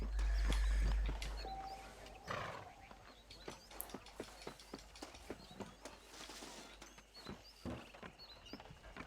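Rhythmic clip-clop of horse hooves in the Western game Red Dead Redemption, a steady run of sharp taps at moderate distance after a loud low rumble at the start, with faint background ambience.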